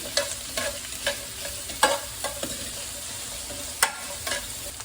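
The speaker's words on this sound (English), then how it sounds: "we'll just saute these off until they start to brown up a bit." Vegetables and bay leaves sauté in a pan for slow-cooker jugged hare, a soft steady sizzle broken by repeated scraping stirs of a spoon at an uneven rhythm, close and fairly quiet, with no talking.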